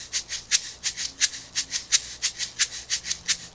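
A shaker plays a samba groove, crisp bright shakes in a quick even pulse with accented strokes recurring regularly, close and alone.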